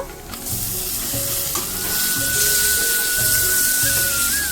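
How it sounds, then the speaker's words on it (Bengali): Finely chopped chicken with spices fries in a hot pan, giving a dense continuous sizzle that swells slightly toward the end, with a few stirring scrapes and a faint whistling tone, close up and without talk. "সেই চিকেনটা ভালো করে কষিয়ে নেব"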